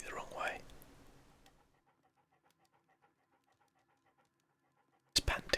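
A dog panting in the Sherlock Holmes: Crimes and Punishments video game, quick soft rhythmic breaths that start louder then fade to faint, steady puffs before an abrupt loud noise at the end.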